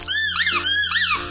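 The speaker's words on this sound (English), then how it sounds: "It squeaks really easily." Squeaker in a plush bubblegum-themed dog toy gives two loud, close, whistling squeaks in quick succession, each rising and falling in pitch, with no voices.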